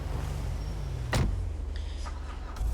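Climbing into a police Dodge Charger in a GTA roleplay game: a steady low engine hum runs throughout, broken by one sharp door thud near the middle and faint mechanical clicks afterward.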